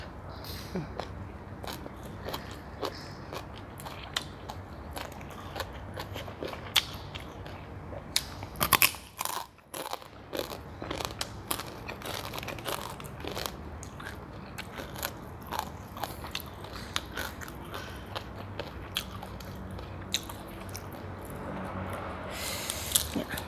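Loud, close crunching as crispy fried fish and fried chicken skin are chewed, alongside papaya salad and sticky rice, with dense crackly bites in a steady rhythm throughout and a brief pause partway through.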